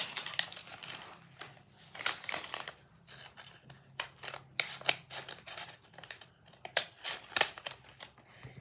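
Scissors snip and cut through a gift box during an unboxing, giving a series of sharp, close crunching and scratching strokes in an irregular rhythm, with no talk.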